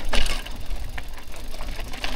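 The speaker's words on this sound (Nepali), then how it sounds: "यो त बाइक हो बाइक अहिले भर्खर गयो" A motorbike engine buzzes and knocks close by as it goes past on a dusty downhill trail, loud and rough, with no talking.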